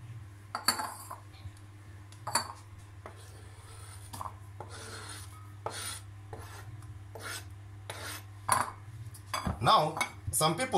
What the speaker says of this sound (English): Then you slice your limes